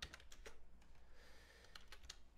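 Fingers tap a computer keyboard quietly at close range, with irregular clusters of light key clicks and short pauses between them.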